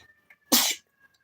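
A single close, loud sneeze bursts out in a quiet room, a sharp burst of under half a second standing alone against faint background hum.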